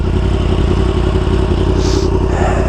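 Yamaha R1M sport motorcycle engine running loud and steady up close, a continuous dense mechanical roar with a slight rise toward the end.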